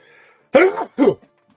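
A single sharp, close sneeze bursts out, followed a moment later by a short vocal sound, with quiet room tone before it.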